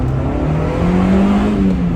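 A 1995 Honda Civic Del Sol Si with a five-speed manual accelerates on the road, its engine a loud, steady drone rising in pitch, captured close with the windows down and no voices.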